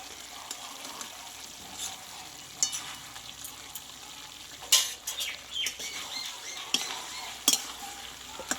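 A spoon stirs a vegetarian mixed-vegetable dish in a pan after ghee is added, giving a soft background sizzle broken by irregular scraping strokes and sharp metallic clicks that come close together in bursts.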